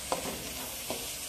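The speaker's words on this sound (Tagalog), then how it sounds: "naggisa na ako eh" Food sautéing in a pan, a steady close sizzle with two quick stirring scrapes, no voices.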